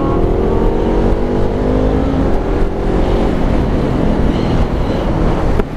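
A vehicle speeding past on the road, its engine rising and falling under heavy, loud wind rumble that lasts the whole time.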